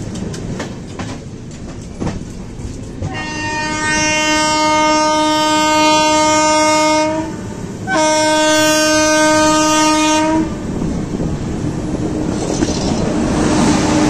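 Two long blasts of a train horn sound loud and close over the steady rumble of a passing train at a crossing with the Bhavna Express, with rail noise continuing between and after the blasts.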